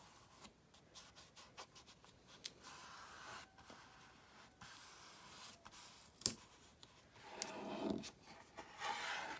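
Scissors cut a torn-up digital paper print for a board book art journal, giving quiet scattered snips and rustles close by, with one sharp snap midway.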